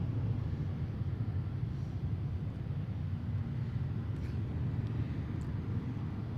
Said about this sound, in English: Those tiny little engines are so loud.